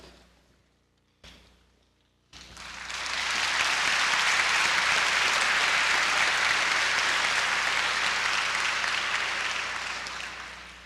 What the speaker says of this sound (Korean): 이제 우리 김영일 선교사님 나오실 때 박수로 환영해 주시고